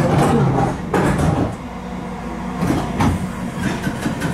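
London Underground Bakerloo line train at a station, doors sliding shut with rumbling, clattering carriage noise and an occasional faint voice in the background.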